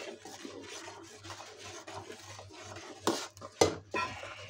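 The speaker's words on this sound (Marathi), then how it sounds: "हलवून घ्यायचे." Rice flour batter stirred in a metal pot, with a steady scraping and swishing of a spoon against the sides, a few sharper clinks near the end, close and fairly quiet with no talk.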